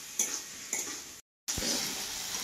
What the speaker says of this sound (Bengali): এবারে এগুলাকে একসঙ্গে আমি এবারে ভাজবো। এইভাবে কিছুক্ষণ এবার আমি ভাজবো গলা পর্যন্ত, টমেটোগুলো গলে যাবে।